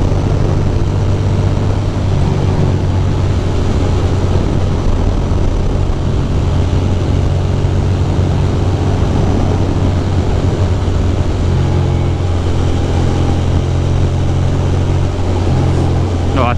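A Ducati motorcycle with the dB killer removed drones loudly and continuously while riding, a deep, steady exhaust roar mixed with wind rush, and voices talk over it at times.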